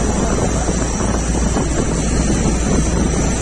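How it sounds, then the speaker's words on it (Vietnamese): Strong sea wind buffets the microphone on an anchored fishing boat in rough water, a loud, constant roar with waves churning and slapping beneath it, no speech. "ngoài này thì rất là sóng gió luôn"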